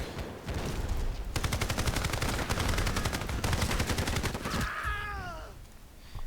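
A PKM machine gun in a video game fires a sustained rapid burst of about three seconds at close range, followed by a short high warbling game sound.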